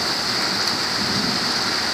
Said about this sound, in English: Bad thunderstorm. It's really bad.